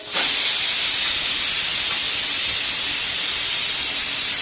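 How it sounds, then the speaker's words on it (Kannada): A kitchen pressure cooker whistle vents steam on its third whistle. The loud, continuous rushing hiss runs unbroken for about four seconds, close by, with no talking. "ಸೆಕೆಂಡ್ ವಿಸಿಲ್ ಆಯ್ತಲ್ಲ ನೋಡಿ ಈಗ ತರ್ಡ್ ವಿಸಿಲ್ ಆಗ್ತಾ ಇದೆ"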